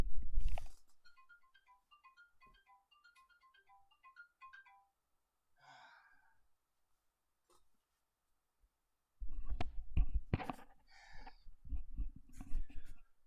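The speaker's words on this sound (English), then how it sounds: "My phone is ringing." A mobile phone ringtone plays a repeating electronic melody for several seconds at moderate level, then stops; a voice speaks briefly afterward, followed by louder rustling and handling noises.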